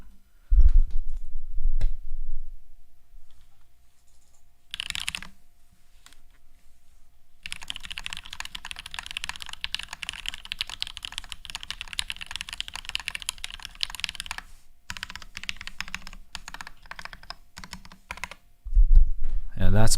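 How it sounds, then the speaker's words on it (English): Rapid clattering keystrokes on a custom mechanical keyboard with Cherry MX switches, typed up close and steadily for several seconds, with brief pauses and a few louder bumps at the start and end. "So I'll just do like a little typing on it."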